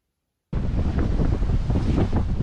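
Strong wind, gusting near force 7, roars suddenly across the microphone on a sailboat and keeps buffeting steadily, a loud, rushing gust over open water.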